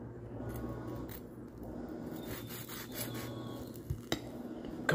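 A knife or blade saws diagonally through a freshly made melt sandwich, giving a rough, scraping rasp of steady cutting strokes, close by, with a few sharper knocks near the end and no talking.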